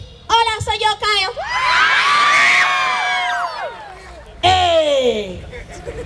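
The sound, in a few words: crowd shouting and cheering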